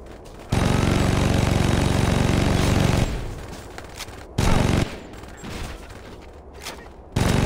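Bursts of rapid gunfire in the video game Saints Row 2 roar loudly in long stretches, cutting off abruptly between volleys, with quieter rumbling gaps in between.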